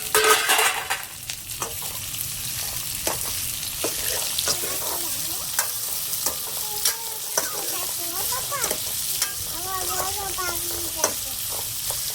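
Sev kantola, spiny gourd, frying in oil, with a loud continuous sizzle and repeated spatula stirring throughout, up close, while faint voices and brief tonal sounds drift in the background.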